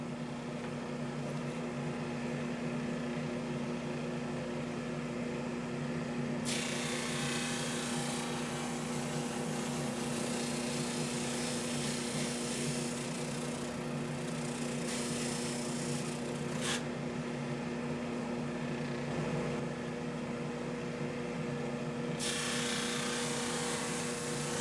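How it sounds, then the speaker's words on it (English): A thickness sander smooths a wooden tenor guitar headstock, its motor humming steadily throughout with a dense, rough abrasive rush that swells and drops back in several long passes. "I could reach under there with my thickness sander"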